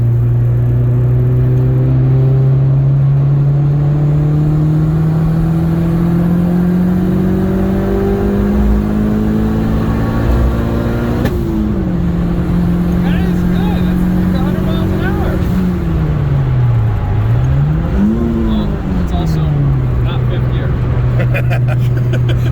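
An abandoned-project BMW E30 with a swapped S52 engine accelerates from the cabin, its rising engine drone climbing steadily through a long gear, dipping at a shift, then revving up again, loud and close.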